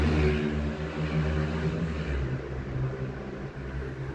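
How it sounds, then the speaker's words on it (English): A motorbike drones along a main road some distance away, a low, steady engine rumble with slight rises and falls heard faintly outdoors at night. "There's a motorbike up on the main road, a bit noisy, wasn't it?"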